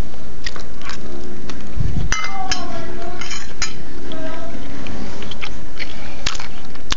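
Boar sausage eaten with cutlery: metal utensils clink and scrape against a plate several times, with soft biting and chewing sounds in between, close and fairly loud, with no talking.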